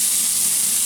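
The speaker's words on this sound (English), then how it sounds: "And then you're just going to let that saute until they become tender." Mirepoix sauteing in olive oil produces a loud, close, unbroken sizzle for about a second, with no voices.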